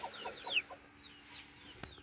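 Pekin bantam chickens cluck softly and briefly in a backyard pen kept with rabbits and guinea pigs, a few short notes and chirps over a faint background.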